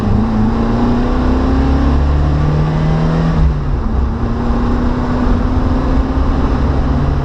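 A GT Junior car's engine is revved up, its tone climbing and then easing back into a loud, steady drone close by, with no talking.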